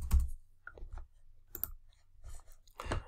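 Keys click in short, sparse bursts on a computer keyboard as numbers are entered into an Excel spreadsheet, several distinct taps close by in a quiet room.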